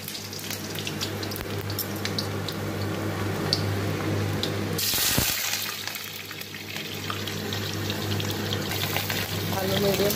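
Potato pieces frying in hot oil in a pan, a continuous crackling sizzle with a burst of loud hissing partway through, close and steady.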